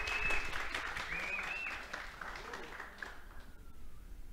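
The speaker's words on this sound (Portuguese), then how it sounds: "uma salva de palmas para ela" Applause for Olympic athlete Keila Costa at a São Paulo sports debate, a steady wash of clapping from the audience that stays fairly even and tapers slightly, with a faint siren-like tone gliding down in the background.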